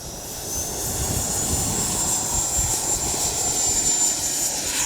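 Freewing 90mm F-22 RC jet with a somewhat depleted battery, its electric ducted fan rising to a loud sustained whine and rush as it takes off from a grass runway, building over the first second and holding steady.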